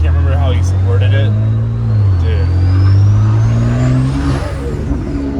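BMW X3M with T51R-modified turbos and front-mount intakes, engine droning steadily up close while a high whistle of turbo spool rises and falls above it, with people talking over the sound.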